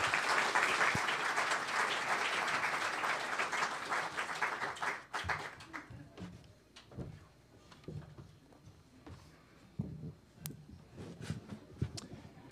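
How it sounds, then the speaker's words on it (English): A round of applause from the audience at a St Louis Irish music festival, dense and sustained for about five seconds before thinning to scattered individual claps that trail off. "Big round of applause, please"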